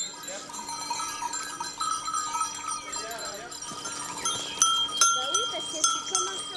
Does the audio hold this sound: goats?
yes